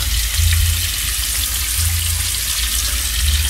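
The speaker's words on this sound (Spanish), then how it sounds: "Vamos a dejar ahí que se fríe un ratito" Fish fillets fry in a pan with a loud, dense, continuous sizzle, steady and close throughout, with low rumbling swells underneath and no one speaking.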